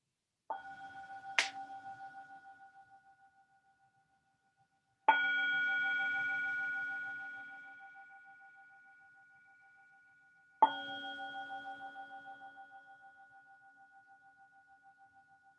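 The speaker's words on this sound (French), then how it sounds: "Écoutons les 3 sons de gong agréables, doux." Three soft gong strikes sound in quiet surroundings, evenly spaced about five seconds apart, each a clear metallic tone that rings out and slowly decays.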